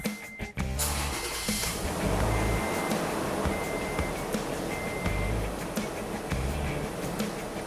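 A car engine started after an oil change, catching with a brief crank and settling into a steady idle that runs on close by at an even level.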